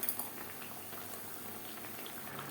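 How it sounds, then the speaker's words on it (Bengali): Lote fish (Bombay duck) simmering on a low flame in the water it has released, giving a faint, steady, soft bubbling that continues evenly throughout, with no voices. "মাছ থেকে অনেকটাই জল বেরিয়ে গেছে।"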